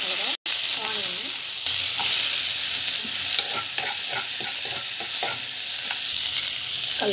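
Mustard seeds, cumin, curry leaves, green chilli and onion fry in hot oil, giving a loud, steady sizzle up close. Light stirring scrapes and clicks run through it, with one brief dropout near the start.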